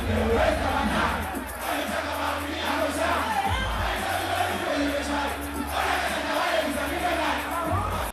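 A large outdoor concert crowd in a park at night shouts and yells loudly in displeasure after a long wait for the headline act, a dense, sustained roar of many voices.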